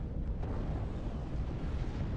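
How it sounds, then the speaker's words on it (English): A massive explosion in a WARNO Star Wars capital ship battle game rolls out as a sustained deep rumble, loud and continuous with no distinct peaks and no talk. "Just look at that massive explosion right there."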